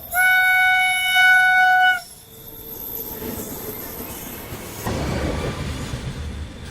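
A train passes along a railway line in India, with a loud horn-like harmonic tone for the first two seconds, followed by a steady broadband rumble of wheels and carriages that swells again near the end.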